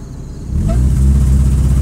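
The engine of a 2003 Mitsubishi Lancer ES with failing coil packs swells from a low idle into a loud, rough rumble over about two seconds, close by and with no speech.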